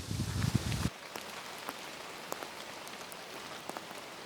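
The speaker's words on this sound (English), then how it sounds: "rain coming down heavy now." Heavy rain in the New Forest woodland pours loudly for a moment, then eases to a softer steady patter with scattered drips nearby.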